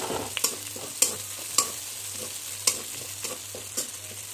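A poppy seed and cashew paste fries in a pan over lowered heat, with a soft steady sizzle and several sharp scrapes as it is stirred, each one loud and close.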